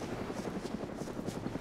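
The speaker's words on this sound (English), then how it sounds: "See the chopper again." A helicopter flies overhead, its rotor chop thrumming steadily and fairly loud for a brief moment.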